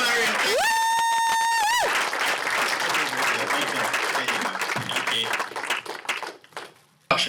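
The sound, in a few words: audience applause for speaker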